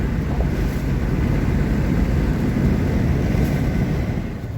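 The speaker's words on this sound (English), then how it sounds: "Get some full-on wind, because I'm warm." Strong wind blows in a heavy, continuous low roar that buffets close to the listener and fades slightly near the end, with no voices.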